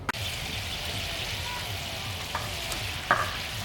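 Continuous bubbling and sizzling from a spicy bata fish curry boiling in a pan on the stove, steady and close, with a few faint clinks.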